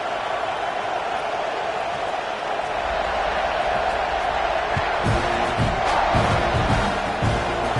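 A football stadium crowd roars and cheers at kickoff, a dense, sustained wall of noise with swelling shouts, while a commentator talks over it.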